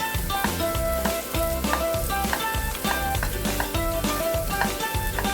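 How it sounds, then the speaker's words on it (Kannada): Onion and ginger-garlic paste frying for masala egg curry crackles loudly up close, with rhythmic scraping of a spatula against the pan repeating through a steady sizzle. "ಈ ಥರ ಫ್ರೈ ಮಾಡಿಕೊಂಡು ಅದು ನೀಟಾಗಿ ಫ್ರೈ ಆಗಿರಬೇಕು."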